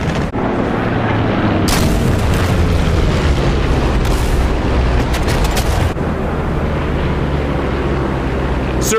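Heavy Japanese gunfire and explosions on the Iwo Jima beaches in a World War II war game: a dense, continuous roar of booming blasts with sharper bursts rising near the start, middle and two-thirds mark, loud and close throughout.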